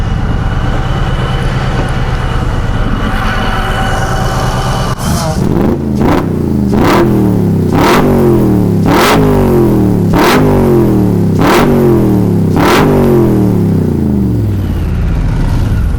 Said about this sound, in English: You can hear it. Purrs like a kitten, but you've actually got 650 fire-breathing horsepower under this.